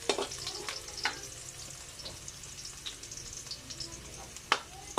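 Garlic sizzles softly in a pan, a steady quiet frying crackle broken by occasional scrapes and clinks of a utensil stirring.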